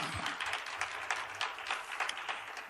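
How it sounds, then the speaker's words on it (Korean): Studio audience applauds to welcome a guest onto a Korean talk show, a steady wash of clapping hands lasting a few seconds at moderate volume with no talk over it. "박수로 모시겠습니다"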